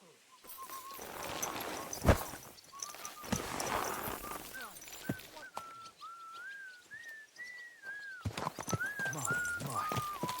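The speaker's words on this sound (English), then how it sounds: "What a beautiful horse." Horse in Kingdom Come Deliverance 2 with clip-clopping hooves and a neigh amid ambient birdsong and whistled calls, with a voice speaking over parts of it.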